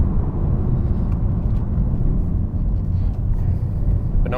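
A Ford Mustang EcoBoost braking hard from a rolling start, with a steady, loud low rumble of road and tire noise filling the cabin throughout.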